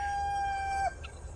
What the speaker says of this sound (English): As you can hear, we have a couple roosters